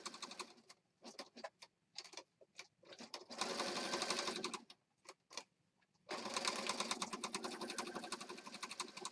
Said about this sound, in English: I sewed a little something on several of the pages today